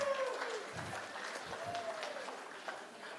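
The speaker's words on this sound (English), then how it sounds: "Round of applause, ladies and gentlemen." Wedding reception guests applaud in a room, a soft, moderately distant patter of clapping with faint background voices mixed in.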